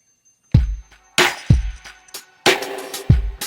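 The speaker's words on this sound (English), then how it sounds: "So what you are hearing right now are only the effects on any of the melodic instruments." Reverb, delay and stereo-widener returns on the melodic instruments of an MPC beat, heard alone: washy, smeared bursts with echoing tails, separated by punchy low thumps in an irregular rhythm.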